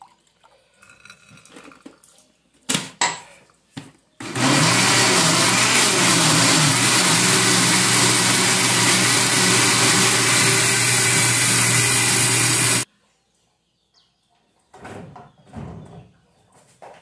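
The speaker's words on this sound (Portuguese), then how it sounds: "Eu vou bater no liquidificador um pouquinho de água" A loud blender whirs steadily for about eight seconds, blending guava with a little water, starting and stopping abruptly, with quieter handling noises before and after.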